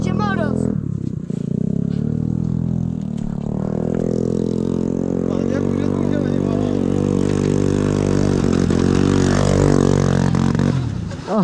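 A cheap, second-hand scooter with a rough history rides up with a steady, buzzing mid-pitched engine drone that swells into revving near the end, while people talk and shout over it.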